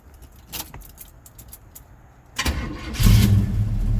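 Keys jingle faintly, then a 1973 Chevy Camaro Z28 V8 cranks and fires, settling into a loud, rumbling idle close by.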